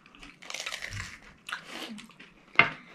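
Close-up crunchy bites and wet chewing of crisp fried pani puri, in irregular bursts with a sharp crunch near the end.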